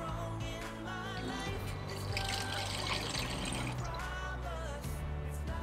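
An RV water pump runs steadily, pushing water through the plumbing of a van conversion, giving a continuous close hum and rush of flowing water that swells slightly in the middle and carries no speech.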